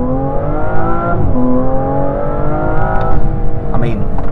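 An Aston Martin Vanquish V12 engine pulls under acceleration, its rising harmonic tone sweeping up, dropping and climbing again, loud and close, with a voice talking over it.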